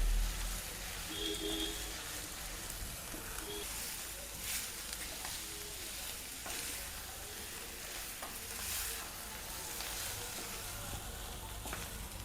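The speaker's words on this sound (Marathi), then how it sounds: "मेथी परतून घ्यायची आता या कांद्यामध्ये।" Fenugreek leaves frying with onions in a pan, a soft steady sizzle with occasional stirring scrapes, faint and continuous throughout with no talking.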